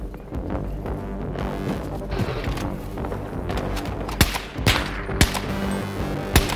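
Battlefield 2042 gunfire on the Hardcore Caspian Border map: a dense, continuous wash of distant shots and battle noise, with a few sharper, louder cracks near the end.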